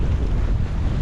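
Strong wind buffets a sailboat under a furling genoa as it shifts about in waves off Whangarei, a loud steady roar of wind noise with wash of water, no voices.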